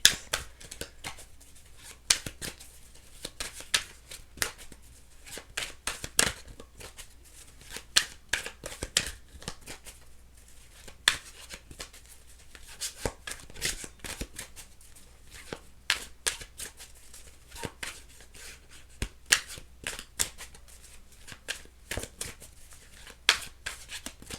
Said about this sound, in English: Let me shuffle some more because these are cards I literally just pulled.